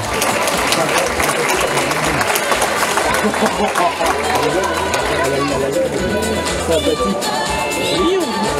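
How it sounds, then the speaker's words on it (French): Spectators at a hair salon fashion show in Theillay clap and cheer over background music and crowd chatter, the applause forming a busy, loud layer beneath the lively room noise. "je pense qu'on peut l'applaudir extrêmement fort"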